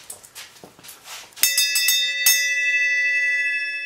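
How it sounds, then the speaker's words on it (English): A bell struck sharply, ringing out with a bright, sustained metallic tone that lingers and slowly fades, after a stretch of quieter indistinct activity; a second strike follows shortly, close and loud. "She's gonna ring the bell."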